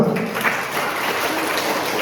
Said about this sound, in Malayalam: കയ്യടി പോരാ.